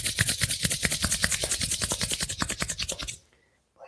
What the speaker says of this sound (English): Rub your palms together.